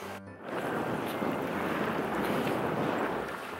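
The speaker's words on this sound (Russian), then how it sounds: "Это такой пляж около отеля Хилтон." Wind gusts blow hard across the microphone at a seaside beach next to a Hilton hotel, with surf and waves roaring loud and continuous throughout.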